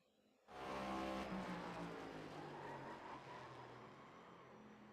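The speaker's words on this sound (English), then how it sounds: "Yeah, big time locking that front wheel." Race car in the iRacing sim locking its front tire under braking, a loud steady engine and tire roar that starts abruptly and holds, gradually easing, with no voices.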